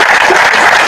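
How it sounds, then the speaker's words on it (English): Applause from a meetup audience for the speakers, a dense, steady wash of many hands clapping at once, loud and close throughout with no break. "Round of applause. The speakers must be seen."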